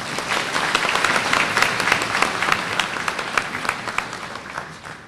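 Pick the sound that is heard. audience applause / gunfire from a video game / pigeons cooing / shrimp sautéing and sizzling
audience applause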